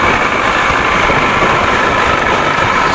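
A 1979 Evinrude 55 hp outboard engine runs loud and close in a steady, dense drone with a buzzy midrange and no clear gaps or changes in pitch.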